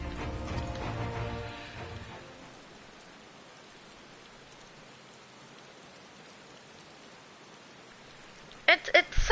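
Steady rain falling in the video game Final Fantasy XIV, a soft even hiss that follows a brief louder game sound and continues alone before a few sharp clicks near the end.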